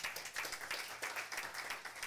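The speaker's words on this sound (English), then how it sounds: "Give a round of applause." Steady audience applause at a city council meeting, many hands clapping at once, a continuous dense patter at moderate volume and no voices over it.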